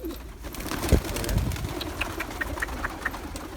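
Pigeons let out of a loft coo near the microphone over a steady low engine-like idling hum, with a brief flurry of wing flaps early on.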